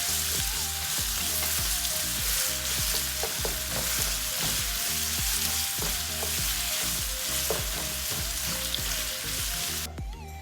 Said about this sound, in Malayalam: സവോള, പച്ചമുളക്, ഇത് നല്ലോണം വഴറ്റണം